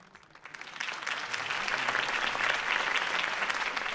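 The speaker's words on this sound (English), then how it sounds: "Mr. Wayne, my campaign's largest backer, could have heard that applause" A large crowd in the Batman: The Telltale Series video game applauds steadily at a campaign speech, the clapping swelling quickly after a soft start and holding loud and dense to the end.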